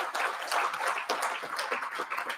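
An audience at a plenary session claps to welcome a professor to speak, a dense, steady round of hand clapping from many people, fairly close and without talk.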